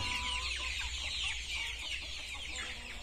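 A flock of KUB chickens clucking steadily in a coop, with scattered overlapping calls and a low background hum throughout.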